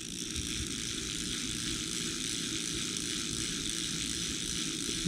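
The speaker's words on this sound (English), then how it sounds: "Now listen to this motor." A Chuggington Wilson toy train's small electric motor whirs in a steady, noisy drone, constant and close throughout, with a faint click near the end.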